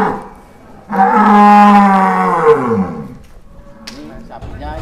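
A large sacrificial cow moos once at a livestock farm, a long, loud, drawn-out low call over busy background chatter from a crowd.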